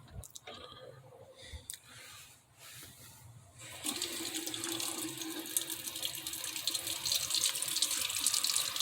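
A plastic 1:24 ICM Mercedes G4 model car body is rinsed of Drano under a running tap. Quiet handling and clicks come first, then a steady, close rush of water fills the rest of the clip.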